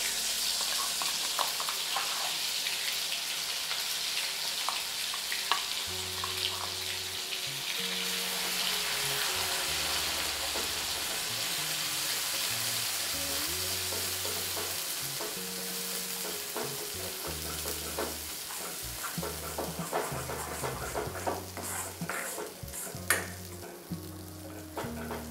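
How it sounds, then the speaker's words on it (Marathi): Ground masala fries in oil in an iron kadhai for a village-style wild bean curry, making a continuous bright sizzle with stirring scrapes throughout, while a low steady tone runs underneath. "तर आता जो मसाला बनवून घेतला होता मी तो मसाला छान परतवून घेणार आहे।"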